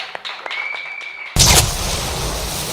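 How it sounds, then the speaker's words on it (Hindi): A television morning show studio audience breaks into sudden loud applause after a quiet stretch with light tapping and a faint tone, the clapping starting abruptly and continuing steadily to the end. "बहुत सारी तालियां जी"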